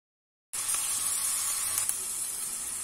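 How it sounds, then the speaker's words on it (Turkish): Ground meat frying in oil in a pan, a constant bright sizzle that starts abruptly and holds steady, close and without voices. "Bir dakika kadar kıymalarımızı da kavuralım bu şekilde."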